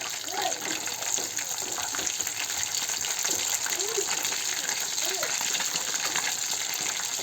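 Small fish from a village canal frying in hot oil, a constant loud bubbling hiss with no pauses, broken only by faint scattered clatter.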